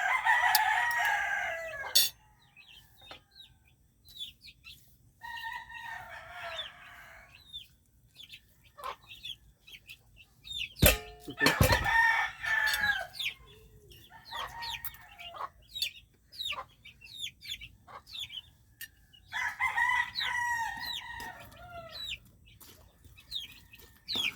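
Roosters crow at early morning, several long cock-a-doodle-doo calls spread apart and repeating, with softer clucking between them from nearby chickens.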